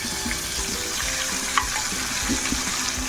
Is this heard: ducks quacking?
no